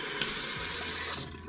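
Water runs steadily from a sink-style shower nozzle in an apartment bathroom, a close, bright hiss that starts abruptly, holds for about a second and cuts off, with no talking.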